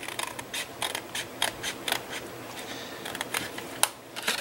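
Cardstock blocks are cut out for a step card with a series of close, crisp snipping and clicking cuts, irregular in rhythm, with light paper handling in between.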